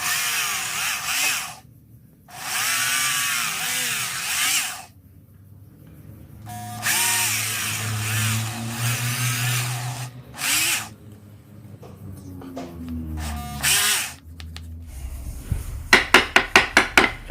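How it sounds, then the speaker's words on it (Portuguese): A power drill bores a hole in a small wooden block while making a thread-unlocking tool, its motor whining in loud sustained bursts that rise and fall in pitch, then a quick series of sharp knocks at the end. "Vou furar o outro aqui."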